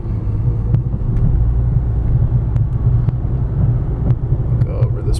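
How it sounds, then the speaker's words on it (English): Steady low rumble of a 2009 Nissan Altima Hybrid rolling over dips and speed bumps, heard from inside the cabin with wind buffeting and a few faint knocks and clicks from the suspension. "We'll go up some dips and some ups and downs and some speed bumps."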